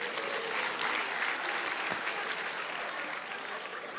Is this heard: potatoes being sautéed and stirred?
no